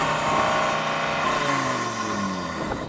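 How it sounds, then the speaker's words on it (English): An Audi RS3 five-cylinder engine on a stock exhaust revs at a standstill, a loud, steady drone whose pitch climbs and then falls back. "Go on, rev at the Audi. Let's have a listen to it."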